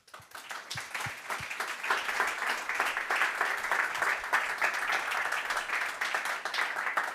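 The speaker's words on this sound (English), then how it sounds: "Give us a big round of applause for Bernhard." At a software conference, the audience breaks into applause for a speaker. A few scattered claps build quickly into steady, moderately distant clapping from many hands that lasts for several seconds.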